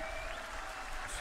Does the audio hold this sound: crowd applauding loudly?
yes